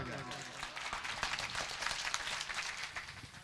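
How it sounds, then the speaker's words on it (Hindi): Audience clapping at a lively Bhojpuri stage show in Bihar, a dense, steady patter of many hands running throughout, fairly loud with scattered cheers and voices mixed in. "ये ताली में सुस्ती है"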